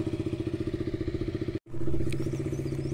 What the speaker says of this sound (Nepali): बाइक स्टार्ट हुँदैछ